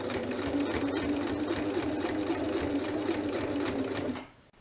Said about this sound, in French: On se fait une ligne bien droite de couture là devant et on accompagne bien droit.